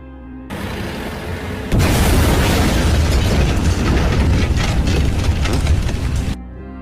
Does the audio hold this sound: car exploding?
yes